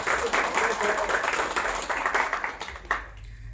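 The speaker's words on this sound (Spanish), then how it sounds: "Un fuerte aplauso, por favor." Audience applause at a cultural reading-circle event in Puebla, a steady dense wash of clapping across the room that tapers off near the end.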